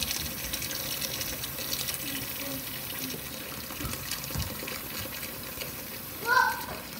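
Water runs steadily from a kitchen tap while glass canning jars are washed in hot soapy vinegar water, a constant close wash of flow with a few faint clinks.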